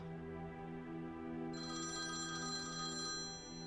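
An electronic telephone bell rings steadily, its warbling tone entering partway through and sounding over a low, continuous background hum indoors.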